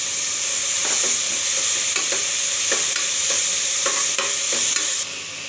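Tomatoes and mutton fat sizzle loudly in a pan for a gravy, a constant close hiss broken by repeated scraping stir strokes, then the sizzle eases slightly at the end.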